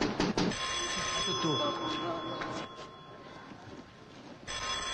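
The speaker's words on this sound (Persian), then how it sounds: "تلفنشون زنگ میزنه" A telephone bell rings steadily in an Iranian feature film scene, a sustained tone with mixed voices and background noise, fairly loud and close, cutting out briefly before resuming at the end.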